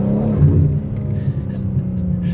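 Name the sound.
sports sedan car engine driving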